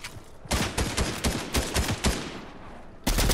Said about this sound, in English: How do you miss all those shots?